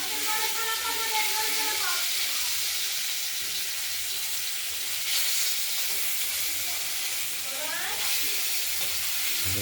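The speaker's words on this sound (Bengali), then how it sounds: "আমরা প্রথমে ভেজে নেব।" Katla fish pieces frying in hot oil, a loud, continuous close sizzle with faint background tones, steady throughout.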